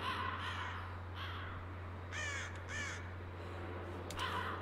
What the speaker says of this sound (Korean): 소리는 들리는데 까마귀가 안 보이네.